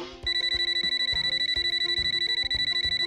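A phone rings with a rapid, repeating electronic trill, loud and continuous after a brief quiet start.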